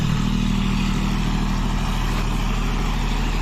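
A John Deere 5105 4x4 tractor towing a trolley up a steep slope inside a mine pit, its diesel engine droning steadily and loudly under load, with no pause in the close, continuous throbbing rumble.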